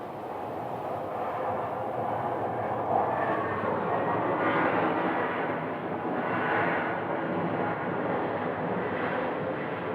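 A jet airliner arriving at Phoenix airport, a broad steady engine roar with wind buffeting the microphone, swelling slightly mid-clip as the plane passes, distant and continuous without talk.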